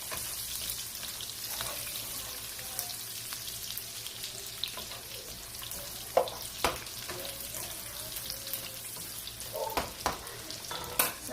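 Onions fry in a pan for pork adobo in a home kitchen, a soft continuous sizzle broken by occasional sharp stirring clicks and scrapes, fairly quiet and without talk.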